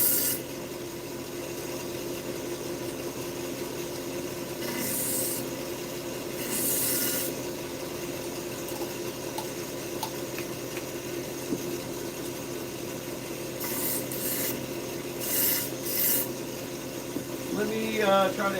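A knife blade is sharpened on a powered sharpener at medium speed in a custom cutlery shop, giving a continuous close rasping grind with a low motor hum, rising in short bursts of stronger strokes.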